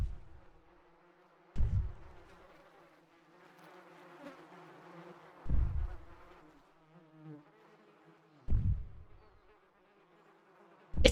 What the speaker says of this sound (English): accompanied by the faint buzz of flies